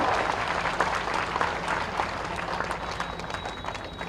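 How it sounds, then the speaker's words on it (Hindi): Audience at a political rally clapping loudly and continuously, a dense wash of many hands with no pause, heard close and steady. "ताली बजाओ तो जोर से बजाओ और जोर से बजाते रहो"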